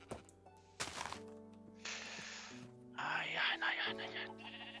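Sheep in Minecraft bleat in a few short, clear game calls amid thuds and other game effects, with someone speaking German over them.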